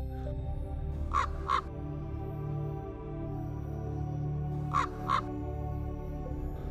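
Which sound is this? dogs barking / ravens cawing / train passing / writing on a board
ravens cawing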